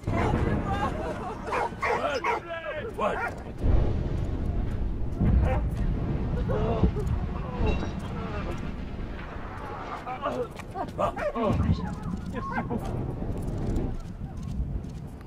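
A dog in the World War I video game Valiant Hearts yips, barks and whimpers in short bursts scattered through the scene, mixed with game sounds and clip-clop effects while a player talks throughout.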